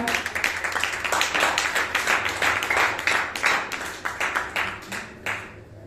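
A church congregation claps together in acclaim of the Lord, with dense, steady, fairly loud rhythmic claps sustained throughout and faint voices mixed in, fading slightly at the end.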